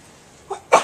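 A single short sneeze bursts out in a lecture hall during a math class, a small preliminary sound followed by the loud, sharp main sneeze.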